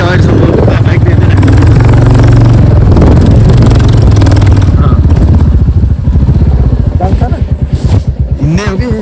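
A motorcycle engine drones loud and close while riding a hill road near a village, its pulsing thrum steady with bumps and clatter, and a voice talks over it.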